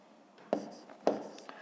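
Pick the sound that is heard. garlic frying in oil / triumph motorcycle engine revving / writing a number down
writing a number down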